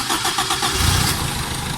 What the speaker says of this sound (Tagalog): pero papandarin ko muna yung makina.